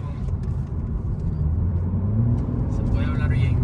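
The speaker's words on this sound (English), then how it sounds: "You can hear the turbo more, right?" Toyota A90 Supra with a B58 turbo engine, catless downpipe and Armytrix exhaust, giving a steady deep rumble and drone throughout, with faint higher turbo-like whistles near the end; people talk over it.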